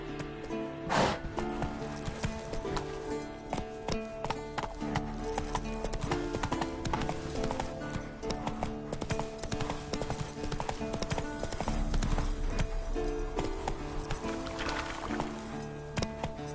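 Steady clip-clop of a horse's hooves from a video game played on a PS5 Pro, a continuous trotting rhythm that stays close and prominent over a busy game soundscape, with no voices.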